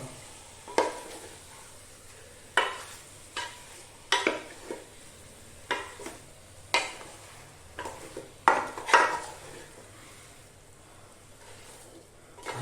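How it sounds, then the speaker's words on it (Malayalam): Biryani masala with onion and tomato is stirred in a pan: a spoon clanks and scrapes against the metal in irregular bursts over a faint sizzle, close and fairly loud. "നന്നായിട്ടൊന്ന് ഇളക്കുക."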